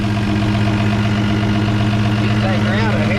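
A 1954 Ford F100 truck engine, left abandoned for 39 years, idles steadily with a smooth low rumble close by, while people talk over it near the end.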